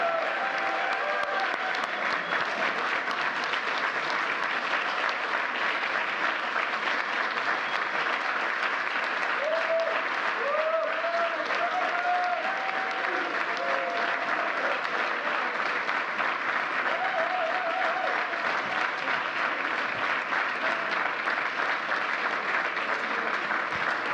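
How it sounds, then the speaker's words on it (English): Sustained audience applause fills a formal White House Presidential Medal of Freedom ceremony, a steady dense clapping that runs unbroken and loud from start to finish. "Let's give one more round of applause for this year's Presidential Freedom recipient."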